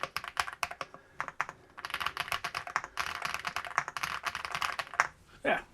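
Someone types rapidly on an Aula 75-key wireless mechanical keyboard with hot-swappable switches, the keys clacking close and crisp in dense bursts with brief pauses, and a voice speaking over part of it.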